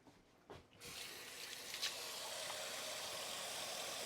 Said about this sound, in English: So let's go and wash my hands.